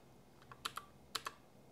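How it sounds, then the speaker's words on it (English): Computer keyboard keys pressed in a quick few taps, an Alt key held with plus or minus presses, giving about four to six sharp, close clicks in two small pairs over a quiet background. "hold Alt on my keyboard and then press plus or minus"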